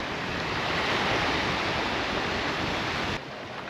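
Ocean waves wash steadily onto the beach at Maceió, Brazil, as a dense, continuous roar of surf with wind, loud and close, easing slightly near the end, with no voices.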